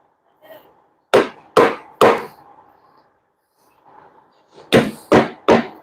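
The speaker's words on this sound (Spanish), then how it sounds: "como no encontramos el bronce, vamos a darle con el cabo de la madera" The butt of a wooden handle knocks against the metal of a universal joint cross being restored: six sharp, loud knocks in two groups of three, separated by a quiet pause.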